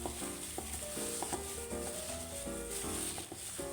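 Gloved hands squish and stir a wet mixture of cencalok, a fermented paste of tiny rebon shrimp, mashing the shrimp, giving soft squelching, sticky clicks in an irregular rhythm, close and fairly quiet.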